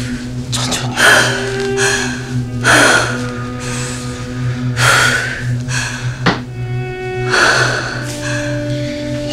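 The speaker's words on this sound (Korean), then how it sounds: "천천히 숨 쉬세요." Someone coming round after being found collapsed gasps and breathes heavily in a series of loud, close, ragged breaths, about four or five strained inhalations with snorting exhales.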